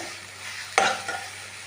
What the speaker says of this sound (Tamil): இதை நம்ம வந்து நல்லா மிக்ஸ் பண்ணிக்கலாம்